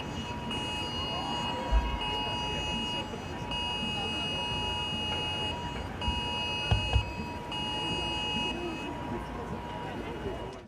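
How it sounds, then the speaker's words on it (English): The UK national emergency alert test sounds from phones as a loud, steady, piercing tone that holds with brief breaks, with some crowd noise beneath it. "So that's the emergency alert"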